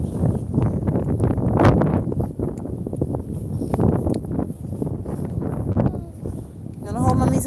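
Wind gusting across open Scottish countryside, a steady rough buffeting roar against the microphone that stays loud throughout, with people talking over it.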